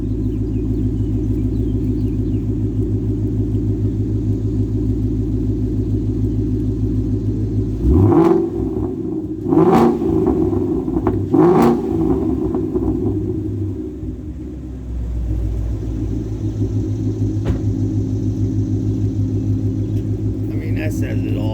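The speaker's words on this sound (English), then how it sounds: "Let me give it a couple revs." A Ford Mustang GT S550 Coyote V8 engine idles with a deep, steady rumble, then revs sharply a few times before settling back to idle.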